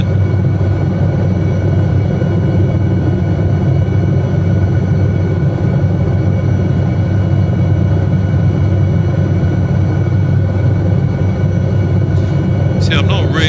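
An SA315B Lama helicopter flies over Lofoten, Norway, cruising gently below maximum speed; its turbine and rotor make a steady, loud, continuous drone with a low hum that stays even throughout and ends in a brief higher click.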